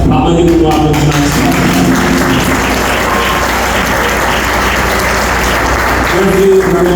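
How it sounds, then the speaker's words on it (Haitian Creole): Continuous applause fills the room from a large audience at a ceremony, dense and loud throughout, with voices mixed into the clapping. "Maintenant, nous allons applaudir."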